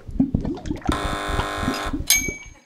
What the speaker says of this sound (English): Buzzers on fingers.